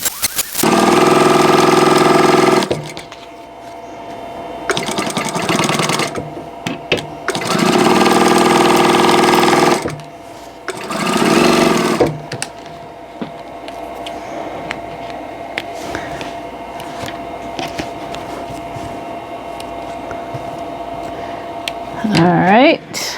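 A sewing machine chain pieces quilt block seams with diagonal seam tape, running in several loud bursts of a few seconds each with pauses between, then fading to a quieter mechanical hum.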